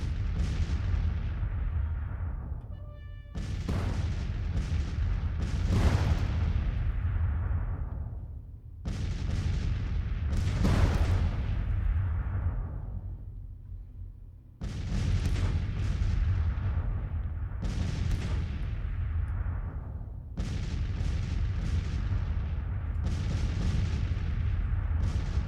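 Civil War artillery in a strategy game fires in a series of heavy booms about five seconds apart, each blast rolling out into a long fading rumble before the next shot.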